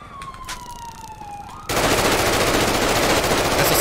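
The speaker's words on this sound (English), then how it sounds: "SL7, shots fired." A siren wails and falls in pitch, then heavy automatic gunfire erupts in GTA 5 FiveM, a loud, dense, continuous barrage that fills the rest of the clip.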